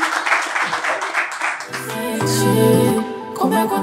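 Brief applause and cheering from the crowd at a rap battle, heard under an MC's voice before music with sustained tones takes over.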